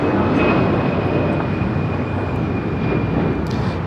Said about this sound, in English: And that is an A320 originally with Northwest.